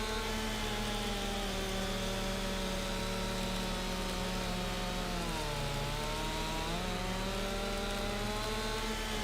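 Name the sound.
chainsaw cutting tree in video game Farming Simulator 25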